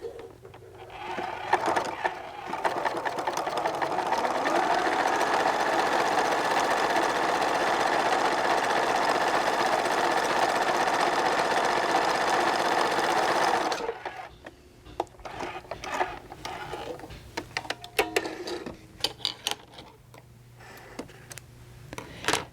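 A home sewing machine runs a steady zigzag stitch through fabric while making a small open-wide pouch, a continuous whirring hum for about thirteen seconds, then stops, leaving scattered handling clicks and soft rustles.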